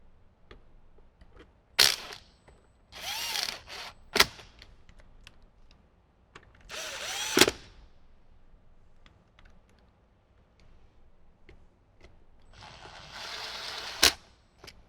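A ratchet works in short bursts of quick clicking, tightening bolts that hold a speaker inside a Jeep JL, with several separate runs of ratcheting and sharp taps between quiet pauses.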